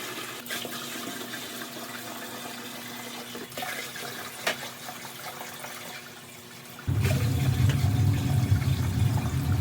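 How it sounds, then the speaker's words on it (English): Water pours into a catfish aquarium tank, a steady rushing stream that swells louder and fuller partway through as the fill picks up, continuous with no talking. "Now it's time for my least favorite part, which is filling up the tanks."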